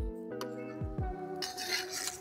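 A spoon stirs a pot of turmeric water set to boil, sounding as metallic clinks and scrapes with ringing tones against the pot, then a softer, steady swishing.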